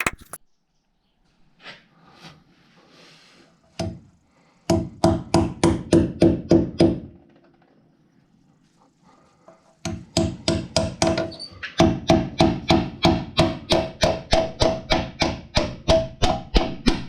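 Hammering during a house build: after a few isolated knocks, two long runs of rapid, even hammer blows ring out close and loud, separated by a quiet pause.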